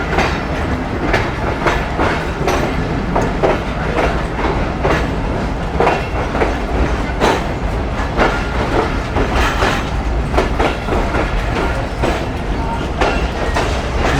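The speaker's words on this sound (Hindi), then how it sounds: "यहाँ पे हम लोग पाकिस्तान एक्सप्रेस को भी ओवरटेक कर रहे हैं भाई" A premium Pakistan Business Express train running on rails while overtaking the Pakistan Express, a loud continuous rumble with rapid rhythmic clickety-clack wheel beats throughout, close and steady.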